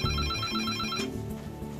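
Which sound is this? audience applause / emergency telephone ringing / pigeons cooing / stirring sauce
emergency telephone ringing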